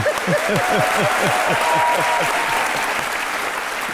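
An audience at a televised courtroom-style talk show applauds loudly and steadily, a dense close wash of clapping lasting throughout, with a voice briefly audible beneath it.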